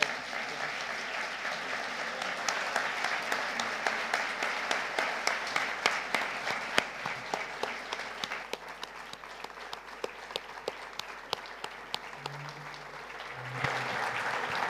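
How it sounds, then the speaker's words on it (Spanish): Sustained applause from a conference audience after a panel talk at a forum, a steady wash of many hands clapping at moderate distance and fairly quiet, with a few brief voices near the end. "Un fuerte aplauso."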